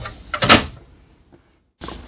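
Front door of an HP OfficeJet Pro 9135e printer swung closed, a quick burst of plastic clunks near the start followed by near silence and a faint later knock, close up and without talking.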